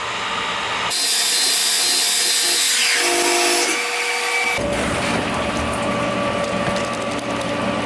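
A loud drill bores through material for a few seconds, its motor pitch dropping under load before it stops, followed by a quieter mechanical hum.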